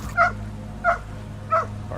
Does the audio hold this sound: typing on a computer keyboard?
no